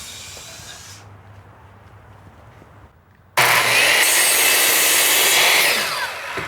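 A power saw cuts through weatherproof recycled polyethylene porch board, starting abruptly after a quieter stretch and then running loud and steady with a harsh hissing rasp close by.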